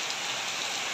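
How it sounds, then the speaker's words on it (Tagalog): Heavy rain pours down steadily in a dense, unbroken hiss with no pauses and no voices. "magpatila-tila lang ako ng ulan dahil grabe, lakas talaga, no?"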